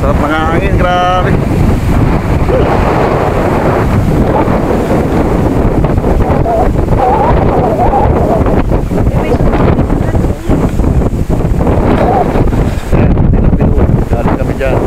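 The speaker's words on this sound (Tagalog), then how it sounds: "Sarap ng hangin, grabe." Strong wind on a hilltop in Tila Pilon Hills, Bulacan, Philippines, buffets the microphone in a constant loud roar, with faint voices underneath.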